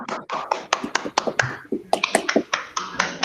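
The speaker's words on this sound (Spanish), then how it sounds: "un aplauso" Close, crisp claps from a small group of people at a lecture, uneven and overlapping, with no talking.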